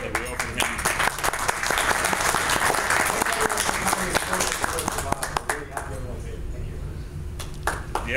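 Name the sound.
audience applause at lunch event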